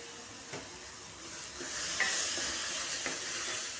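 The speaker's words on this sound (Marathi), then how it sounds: "तेलामध्ये छान परतायचं" Ground masala paste with turmeric and garam masala sizzles in hot oil for a chickpea curry, a steady close frying hiss with a few soft stirring scrapes, no voices.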